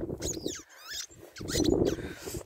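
Short squeaky chirps from a dog's ball toy by the water, a few quick squeals over a busy background with someone talking around them.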